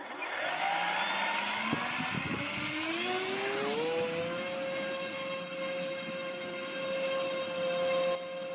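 Electric motor of an RC Douglas DC3 Dakota model spinning its propellers on a bench test, a loud, steady whining drone that rises in pitch over the first few seconds and then holds constant.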